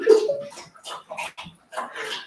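Oscar, a dog just back from a walk, lets out a few short whimpers and yips close by, in uneven bursts with gaps between them.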